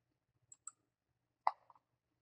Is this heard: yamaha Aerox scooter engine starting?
no